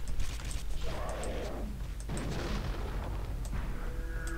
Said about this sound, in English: you use a charged necrocyte attack